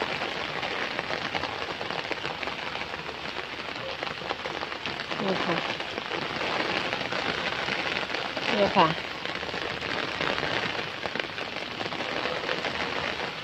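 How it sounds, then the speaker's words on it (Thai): Heavy rain pours steadily during a storm, a dense constant hiss of drops hitting surfaces and leaves around a plantation, with someone speaking briefly over it. "ฝนตกแล้วนะคะนี่ฝนตกแห้งแล้วด้วยค่ะนี่มาพร้อมกับสายฝนนี่ค่ะ"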